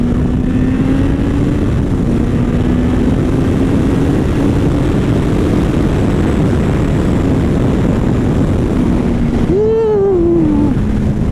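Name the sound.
Kawasaki Concours 14 motorcycle engine accelerating on a ride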